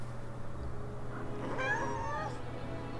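A cat gives a single drawn-out meow, near and fairly quiet, over a low steady hum in the Final Fantasy VII Remake video game.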